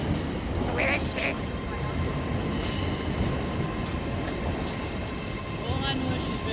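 A passing train rolls by close at hand with a continuous heavy rumble and rattle of wheels and cars, while people chat over it and a couple of brief squeals ring out.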